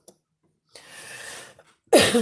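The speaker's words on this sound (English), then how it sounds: "I sneezed twice." A quick breathy intake followed by a loud, sharp sneeze at the end, close to the listener, otherwise quiet.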